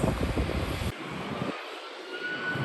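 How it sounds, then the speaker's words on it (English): A Qantas Freight Boeing 767-300F cargo jet at Sydney Airport, a sustained roar of jet engines with a sharp change partway through as the low rumble drops away, leaving a thinner whine and distant engine noise. "Qantas Freight Boeing 767. Wow, beautiful. 767-300F flying from Sydney to Auckland."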